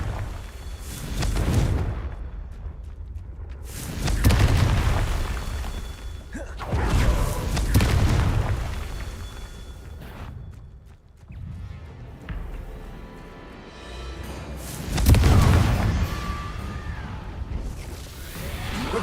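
Confringo blasting curses in Hogwarts Legacy land as a series of heavy booming blasts, roughly five rumbling thuds spaced a few seconds apart, each swelling and fading.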